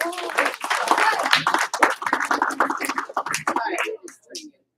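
A classroom of students claps in quick bursts, a short scattered clap followed by a pair of claps, mixed with a voice calling out and some chatter, fading out at the end.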